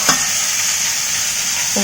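Food fries in a pan with masala, giving a loud, continuous close sizzle with a brief stirring scrape at the start and end.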